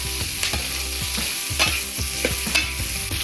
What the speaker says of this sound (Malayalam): അത് ശകലം ഒന്ന് വഴട്ടെ